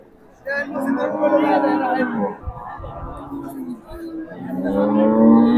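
A large crossbred cow moos at a busy cattle market in Hazratpur, with long lowing calls standing out over a steady background of crowd chatter and nearby voices.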